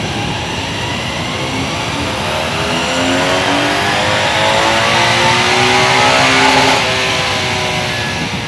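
Old motorcycle engine running on a dynamometer, a loud steady drone whose pitch climbs gradually as the revs rise, with a smooth sweeping whine layered over a continuous roar.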